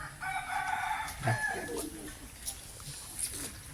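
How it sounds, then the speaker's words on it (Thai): A large rooster, one of a pair brought as an offering to a temple monk in Thailand, crows loudly nearby, followed by softer clucks, with people talking faintly in the background. "ไก่ใหญ่มาคู่หนึ่ง"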